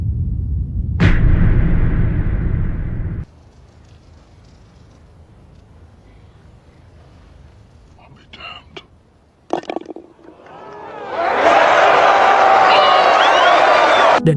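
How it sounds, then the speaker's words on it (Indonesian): A crowd of spectators at a golf tournament erupts into loud, sustained cheering and shouting that swells up and then holds at full volume, after an earlier burst of noise and a quieter stretch. "Dan kerumunan penonton meledak dalam sorakan."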